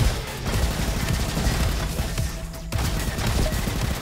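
Guns blaze in the Robo Quest video game, a dense, continuous barrage of rapid shots and booms, loud and close, with a brief drop just before the firing resumes.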